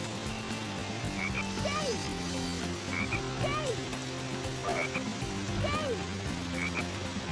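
Frogs croak in a rainforest level of the video game Sonic Heroes, repeated low croaks and chirpy calls in a steady pattern over constant game music and ambience, with no talk.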